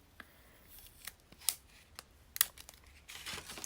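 Adhesive tape being pulled and pressed down, quick sharp tearing bursts and soft crinkles, close up and quiet, with no talking.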